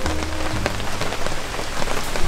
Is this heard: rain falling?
yes